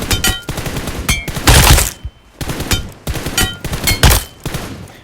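Rapid automatic gunfire sprays in the video game PUBG, loud close bursts of shots separated by brief pauses, with no talking over them.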